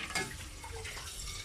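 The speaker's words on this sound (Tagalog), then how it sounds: "Halagyan na natin siya ng tubig." Tap water pours steadily into a pot of mussels being cooked for tinolang tahong, a continuous close splashing rush lasting the whole moment with no voices.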